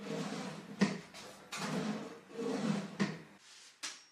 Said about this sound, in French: Le tiroir glissait mal, un peu de cire de bougie sur les coulisses aidera.